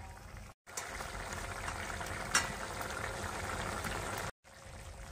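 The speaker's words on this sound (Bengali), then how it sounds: "পোস্তটা ফুটে ফুটে চারদিকে মিশে যাবে।" Potato and poppy seed paste bubbling in a pan in a rural Bengali kitchen, a steady soft bubbling and sizzling hiss with one brief sharp click midway, the sound cutting out briefly near the start and end.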